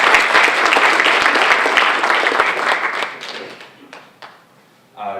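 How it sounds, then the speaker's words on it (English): An audience at a JoomlaDay Florida conference keynote breaks into loud, dense applause that fades over a few seconds into scattered claps, then a brief burst of noise at the end. "Give them a great round of applause."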